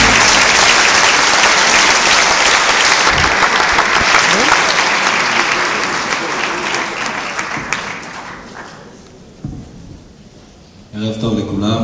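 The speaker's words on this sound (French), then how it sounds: "Je vous demande de l'accueillir et de l'applaudir." A large audience applauds loudly and steadily to welcome a speaker, a dense wash of clapping that fades gradually over about ten seconds, with a brief voice near the end.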